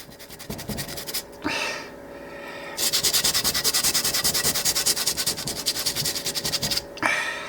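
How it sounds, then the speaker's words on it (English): Rock around a Stichocentrus liratus fossil fish being sanded by hand: close, rhythmic rasping strokes in quick repeated passes, pausing briefly between sessions. "Forgot to gotta sand that a little bit."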